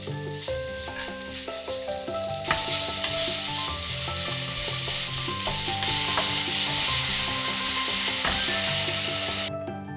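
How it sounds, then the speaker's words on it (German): Steady, loud sizzling of meat frying in oil in a hot pan, with scraping and stirring sounds layered over a constant crackle, no talking. "Ein Schuss Öl in die heiße Pfanne. Das Fleisch vorab kurz braten."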